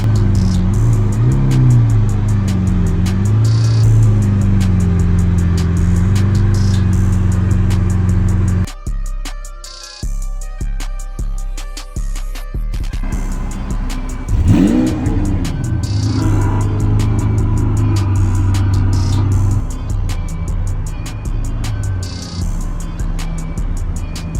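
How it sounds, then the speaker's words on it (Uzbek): A Lamborghini Aventador at an outdoor motor festival roars with a loud, deep, steady engine drone, its pitch swelling and dipping through repeated revs, with a brief gap of rapid crackling bursts midway and crowd noise faintly underneath. "O'zbekistondagi yagona Lamborghini Aventador."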